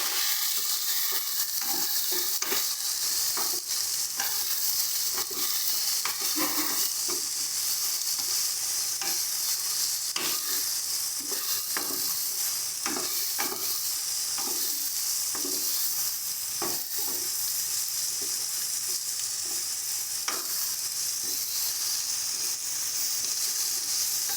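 Spices with salt being stirred and fried in a pan, a continuous bright sizzle with frequent rhythmic spatula scrapes and taps throughout.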